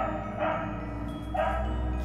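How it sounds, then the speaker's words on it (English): A dog in the game Trick or Treat gives two separate barks, well spaced, over a steady droning game soundtrack. "It's a freaking dog."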